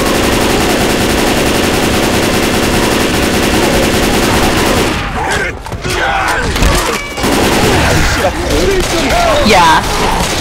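Bursts of automatic gunfire in the Left 4 Dead 2 zombie shooter, loud and continuous rapid fire mixed with game effects, with players shouting over it.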